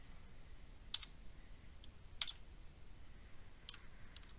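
Scattered keyboard clicks in a quiet room, three or four distinct keystrokes spaced apart over faint background hiss, with no talking.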